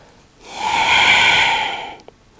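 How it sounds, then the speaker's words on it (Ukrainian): One long, close breath, drawn in and pushed out steadily and audibly, during a morning functional exercise routine. "І знову вдих вперед і видих вниз."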